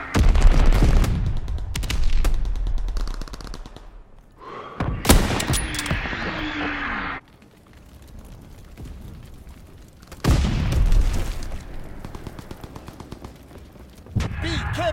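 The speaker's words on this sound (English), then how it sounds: "Hostile enemy mortar fire incoming." Enemy mortar fire in a video game battle brings loud booming blasts and rattling gunfire bursts, with heavy impacts separated by a quieter gap.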